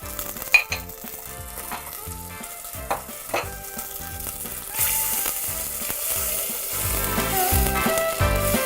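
Sugar and two spoons of honey melt in butter in a pan for a honey cake, sizzling softly while a utensil stirs and clinks against the pan.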